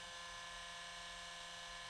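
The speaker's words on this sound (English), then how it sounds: "let's drill a hole" A small drill bores a hole through a Mezco Spider-Man 2099 toy figure, producing a faint, steady, high whine that runs unbroken throughout without talk.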